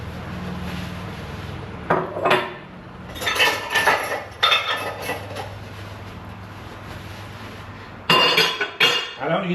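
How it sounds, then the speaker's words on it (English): Dishes being dried and put away in a home kitchen give off scattered clinks and clatters of plates and cutlery in short bursts, close by, with a quiet hum between them. "We're starting to dry off our dishes."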